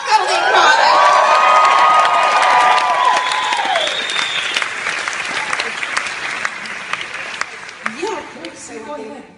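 Loud applause and cheering from a crowd, with whoops and shouts rising early, then clapping continuing steadily before tapering off near the end.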